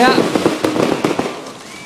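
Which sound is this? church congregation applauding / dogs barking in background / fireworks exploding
fireworks exploding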